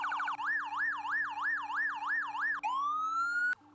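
A police car siren in a Roblox game wails in a steady up-and-down cycle, then shifts into a rising single tone before cutting off abruptly; loud and close.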